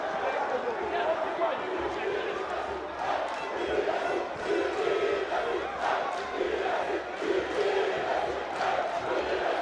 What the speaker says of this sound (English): Ecstatic and frenzied crowd